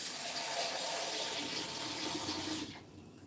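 Fresh or dried sorrel (hibiscus) is rinsed under a running kitchen tap, a steady close rush of water splashing that cuts off shortly before the end.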